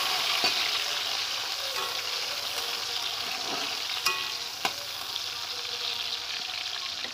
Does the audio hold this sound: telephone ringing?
no